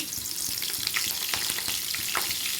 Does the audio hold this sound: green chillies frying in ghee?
yes